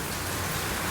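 Steady monsoon rain falls on a farm field sown with red onions, making a dense, even hiss that stays constant for just under a second with no voices.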